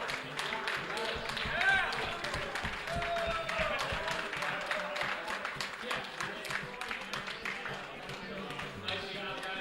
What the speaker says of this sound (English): Can we get a round of applause for Jason, Brett, Lucas, Steve, Morris, and